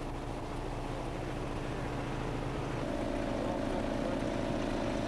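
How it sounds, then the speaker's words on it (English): Hot crack sealant is pumped through a road repair machine's system in a steady, loud mechanical drone. The hum runs continuously and shifts slightly in tone partway through, with no voices. "The next step is to begin pumping the sealant through the system."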